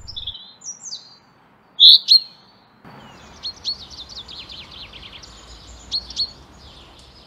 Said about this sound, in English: These are the two most common call types of the chaffinch.